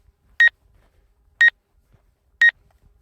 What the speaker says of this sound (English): That beeping sound is the sensors detecting things